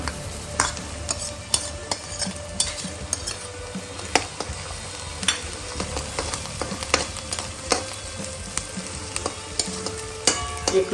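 Garlic frying in a pan with green chillies for a peanut bhajiya curry, a steady sizzle under repeated clinks and scrapes of a spoon stirring, close and fairly quiet, with no talking.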